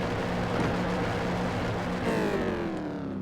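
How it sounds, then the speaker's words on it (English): Car engine in the racing game Asphalt 8 during a jump: a steady drone that shifts partway through into a rising, gliding tone, then carries on alone. "I want to show you what it sounds like with the jump."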